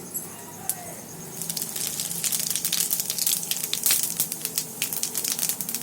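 Whole cumin seeds hitting hot mustard oil in a wok burst into a loud crackling sizzle after a quiet start, with sharp pops continuing to the end.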